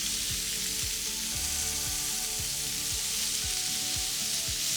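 Chicken skewers sizzle and crackle on a hot cast iron grill pan, giving a continuous, dense frying hiss close up. A faint low rhythmic hum runs underneath, and nobody speaks.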